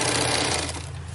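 A Bernina 830 sewing machine stitching a fabric tool roll, a fast steady whirring hum at close range that slows slightly toward the end.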